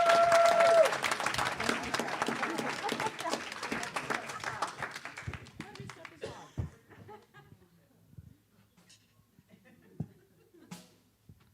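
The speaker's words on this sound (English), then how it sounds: "Now we can do the applause." Audience in a church service applauds loudly at first, dense clapping mixed with some laughter and voices, then fades over several seconds to scattered claps and quiet murmuring.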